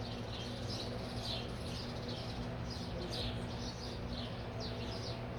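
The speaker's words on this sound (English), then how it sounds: "can you hear all those birds chirping?" Birds chirp repeatedly in short bright bursts over a steady low background hum, moderately faint and somewhat distant.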